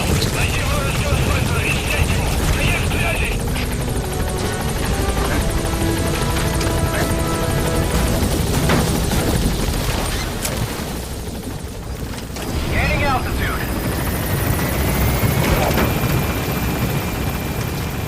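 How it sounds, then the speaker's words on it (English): Rotor thump and engine whine of a support helicopter arriving in Metal Gear Solid V, loud and continuous throughout, mixed with game effects, some bursts of gunfire and radio-style voice lines. "Support helicopter has arrived."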